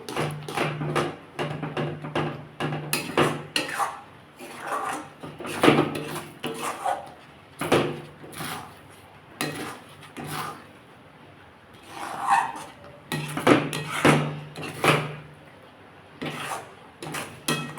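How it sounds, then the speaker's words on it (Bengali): Eggplant being stirred in a wok for a mango jelly dish gives a run of rough scraping and rubbing strokes, close and fairly loud, repeating in bursts with short pauses. "বেগুনগুলো সমানে নাড়তে হবে কড়াই ধরে যাচ্ছে"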